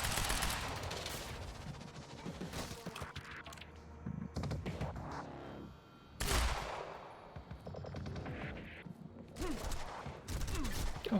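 Gunfire rattles through a Quantum Break firefight in dense, sustained bursts with brief lulls, loud and close, mixed with other game effects.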